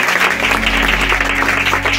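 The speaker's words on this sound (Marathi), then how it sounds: "टाळ्या वाजवायची, जरा चांगल्या वाजवा" A church congregation clapping, loud, dense and rhythmic applause from many hands close by, steady for the whole stretch.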